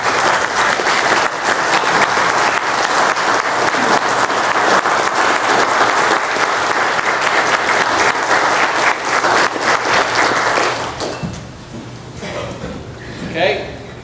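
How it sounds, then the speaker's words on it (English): A county commission meeting audience gives a long, loud round of applause that holds steady for about eleven seconds before fading into quieter room noise. "give the Ideas Group and all the other groups of citizens that have come together to make a positive change in our landscape a round of"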